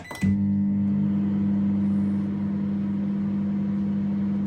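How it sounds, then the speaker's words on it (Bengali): A microwave oven running to heat olive oil for thirty seconds, starting with a click and then a steady, close, loud hum that holds evenly throughout. "তেল মাইক্রোওয়েভ করে নিচ্ছি আমি থার্টি সেকেন্ডের জন্য"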